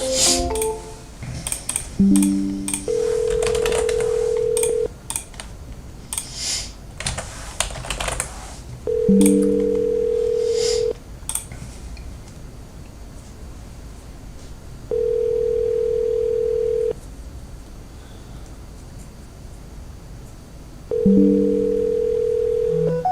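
Outgoing telephone ringback tone on an unanswered call, four long steady tones at even intervals, each joined by short lower beeps, with keyboard typing and clicks in the gaps.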